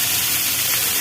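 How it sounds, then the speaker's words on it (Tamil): Sliced okra frying in hot oil in a pan gives a loud, close, continuous sizzle and hiss with no break. "இதை நல்லா ஃப்ரை பண்ணி எடுத்துக்கலாம்."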